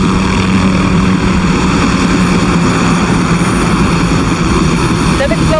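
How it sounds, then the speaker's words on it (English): Helicopters in the video game Call of Duty Modern Warfare produce a loud, continuous rotor and engine drone that fills the scene, dense and unbroken throughout. "Barkov is sending in helicopters."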